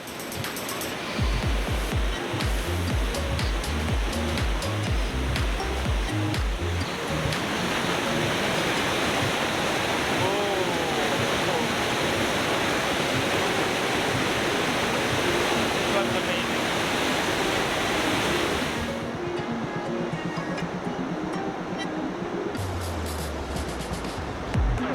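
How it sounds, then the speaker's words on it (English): Panimur waterfall in Assam roars as a steady, loud, broadband rush of falling water, continuous throughout with faint background activity and a brief low rumble near the end. "We are now going to see another segment of the waterfall."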